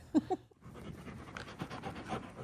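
Dogs board a pup bus in West Fargo, North Dakota, panting quickly and rhythmically up close, with a couple of brief louder sounds at the start before steady breathing continues to the end.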